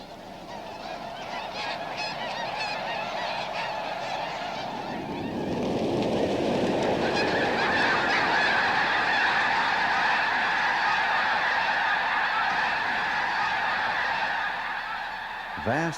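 A huge wintering flock of snow and Ross's geese on the fields and wetlands of a Rio Grande wildlife refuge near Albuquerque, New Mexico, honking in a dense, continuous clamor that swells louder midway, with a steady wash of wind or water beneath.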